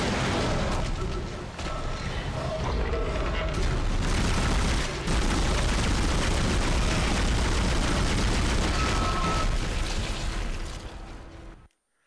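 Gunfire against a boss in the Dead Space video game, a loud, continuous barrage of booming shots and blasts lasting nearly the whole stretch before cutting out abruptly, with voices mixed under the din.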